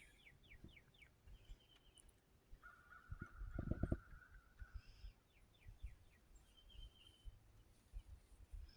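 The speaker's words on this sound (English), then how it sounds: "I think there's a crow." A crow caws several times, the calls coming in short bursts at a moderate distance. They sound from outdoors around a porch in the morning, with other birds chirping faintly and some low rustling noise underneath.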